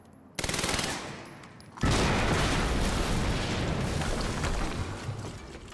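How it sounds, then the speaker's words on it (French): An explosion in Quantum Break arrives as a sudden burst and then a second, louder blast that rolls into a long, dense, roaring rumble that stays loud and close throughout. "QG, on vient d'entendre une explosion près du périmètre de collecte"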